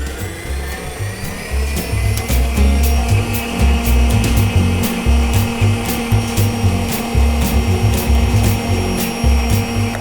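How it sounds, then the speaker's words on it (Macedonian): An electric mixer whisks cream with a chilled mixture, a steady loud motor whine with a constant hum and rapid rhythmic clicking from the beaters, running without pause and no speech. "И пак матам да се соедини."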